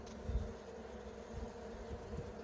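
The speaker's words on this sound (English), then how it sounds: "If you could hear it at home, The bees are starting to get ramped up." Honey bees from a recently installed package colony hum steadily inside their hive during a week-two inspection, a continuous low drone with faint rising swells, close and alone with no voices.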